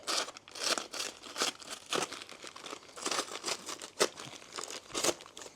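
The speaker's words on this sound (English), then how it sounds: "Cut the bag straight down there." A paper bag of plaster is sliced straight down with a knife and pulled apart, giving a run of close, crisp crinkling and tearing rustles in short bursts, with no voices.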